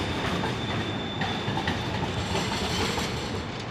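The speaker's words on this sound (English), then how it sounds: "That's the train." A train rolls past in downtown Houston, giving a continuous loud rumble and rattle of rail cars with a faint wheel squeal, steady throughout with no break.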